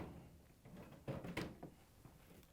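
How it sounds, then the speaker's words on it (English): A Whirlpool or KitchenAid trash compactor drawer is pulled out and set aside, giving faint sliding rumbles followed by a couple of soft thunks as it comes free and is put down. "we'll have to remove the drawer and set it aside"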